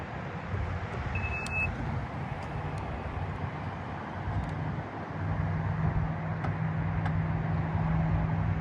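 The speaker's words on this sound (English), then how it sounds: "To close the trunk, just push the button." The power trunk of a Mazda CX-90 closes at the press of a button: a faint short beep, then a low steady motor whir that grows more noticeable later, all quiet against soft background noise.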